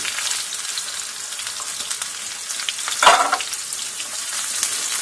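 Onion frying in a pan for chicken shawarma sandwiches, a steady close crackling sizzle with one brief louder scrape or stir near the middle, and no talking.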